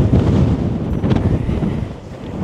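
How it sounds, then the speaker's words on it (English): A gale on the Isle of Lewis in the Outer Hebrides of Scotland, heard beside a motorhome, roars across the microphone as loud, steady buffeting wind, close and unbroken, with no voices. "It's absolutely blowing a gale"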